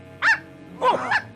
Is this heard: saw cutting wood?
no